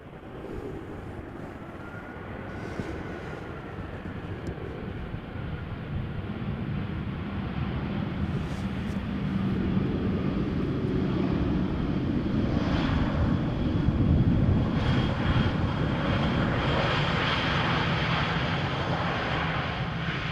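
Airliner arriving at Amsterdam Schiphol from Munich on a showery day, a low rumbling engine roar that grows louder through the middle and stays steady, with light wind noise and no talk.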